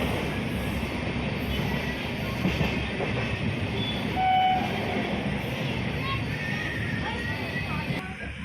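A passenger train runs along the line with a steady low rumble and rattling carriages, a faint squeal rising briefly now and then. People talk quietly under the noise.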